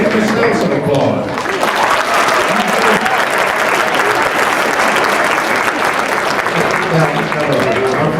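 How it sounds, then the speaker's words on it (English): Loud, dense audience applause at a career day keynote, sustained evenly over several seconds with some voices mixed into the crowd. "Give yourself some applause."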